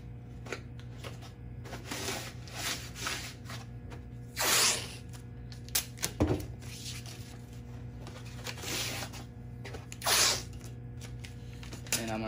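Tape pulled off the roll and pressed along the edges of a screen printing frame, with loud tearing rips around a low steady hum and softer rubbing and crinkling between.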